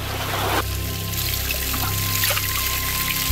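Steady water pouring and trickling from a nearly 2,000-year-old aqueduct along the Lycian trail in the Turkish mountains, a continuous close splashing stream with a constant hum underneath.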